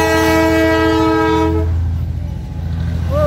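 A train sounds a long, loud horn blast close by on a trip to a temple, with the harmonic blare cutting off midway and the rumbling of the passing train carrying on beneath it.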